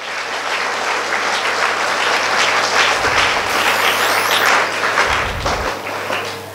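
Loud, sustained applause from a congregation during Holy Mass at Mount Carmel Church in Kakkon, Hoshiarpur, dense steady clapping filling the whole stretch with a couple of low thumps.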